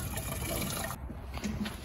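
Water sloshing and gushing inside an aluminum fuel tank from a Kenworth T600 truck as it is rinsed, a close, steady liquid rush with slight surges and no speech.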